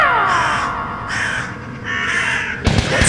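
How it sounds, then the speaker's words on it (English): Several crows caw loudly and close by, in a series of harsh, drawn-out calls over a dense, steady background, ending in a sudden thud. "Is that the sound of birds I hear?"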